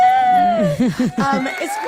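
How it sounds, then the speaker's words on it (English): A crowd cheer sound effect on a show, whooping and cheering voices rising and falling in a short burst. "Yeah, we need the cheer."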